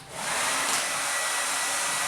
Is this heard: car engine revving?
no